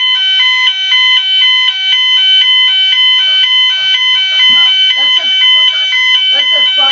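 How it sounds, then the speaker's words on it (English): A loud indoor fire alarm blares continuously in rapid, pulsing electronic tones, and a voice becomes faintly audible beneath it in the second half. "That's a fire alarm."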